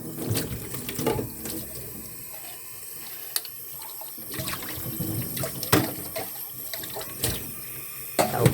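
Tap water runs over used cooking utensils being washed in a sink, a steady close splashing with irregular clinks and knocks of dishes scattered through it.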